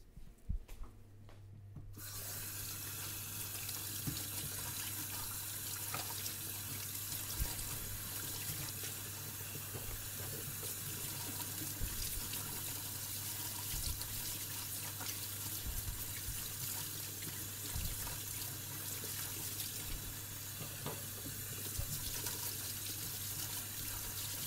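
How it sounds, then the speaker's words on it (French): Tap water runs steadily into a kitchen sink while potatoes are washed beneath it, with a constant splashing flow and occasional rubbing and knocking, after a brief quiet start. "Maintenant, on va laver les pommes de terre avant de les couper en deux."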